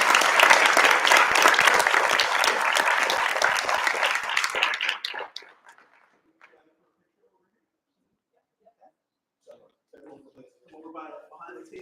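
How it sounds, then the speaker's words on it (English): An audience at a school board meeting applauds honored students with loud, dense clapping. It fades out after about five seconds, and then quiet talking follows. "And once again, a round of applause for all of our pillars of character."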